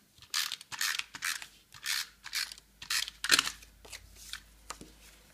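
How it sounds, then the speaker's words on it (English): Snail adhesive tape runner pressed along cardstock while a holiday card is made: a string of about a dozen short, close, rasping zips, brisk and uneven. "I'm going to use my snail adhesive."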